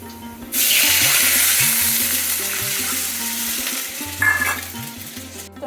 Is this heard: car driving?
no